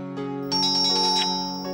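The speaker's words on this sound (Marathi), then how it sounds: "अरे बेल वाजते" A doorbell rings indoors with a short electronic chime, one bright melodic ding-dong that sounds once and fades, alone.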